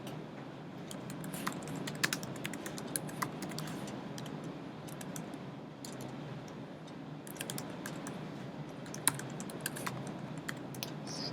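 Code is typed on a computer keyboard in a steady, close stream of light key clicks, with occasional louder taps standing out over a faint background hum.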